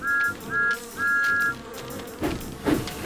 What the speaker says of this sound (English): The bees were still buzzing